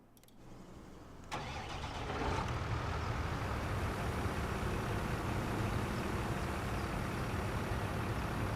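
A JCB vehicle's engine in Farming Simulator 25 cranks and fires, settling into a steady, close, mid-pitched diesel idle that runs on without a break; no voices.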